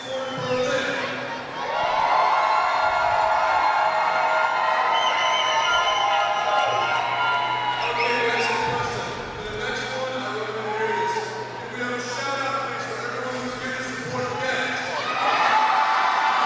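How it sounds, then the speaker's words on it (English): An arena crowd cheers and shouts for the Gent team, a loud roar that swells and rolls on throughout, with commentators talking over the noise. "As you can hear there, a big cheer for Gent in the arena."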